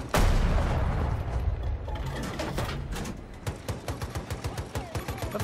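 Tank fire in Battlefield 2042, a loud close cannon blast followed by a rapid, evenly spaced string of gunfire bursts and battlefield clatter.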